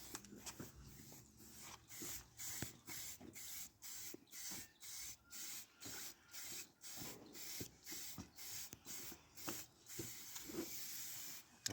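An aerosol spray paint can sprays a light first coat onto car wheels in a long series of short, regular hissing bursts, each a second or so long, separated by brief pauses, close and fairly quiet.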